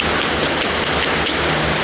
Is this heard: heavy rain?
yes